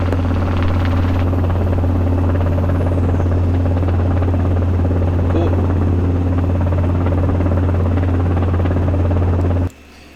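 A Robinson R22 light helicopter runs steadily and loudly from inside the cockpit, a constant droning buzz that cuts off abruptly near the end.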